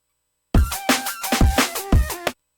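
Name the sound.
snare drum pattern with every hit equally hard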